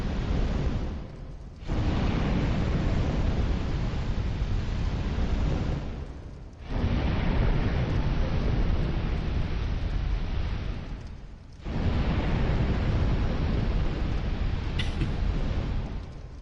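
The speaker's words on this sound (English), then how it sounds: "Was someone causing explosion sounds?" Video game explosions sounding as long, loud, roaring noise bursts, three sustained blasts separated by brief drops in level, close and dominant with no talk.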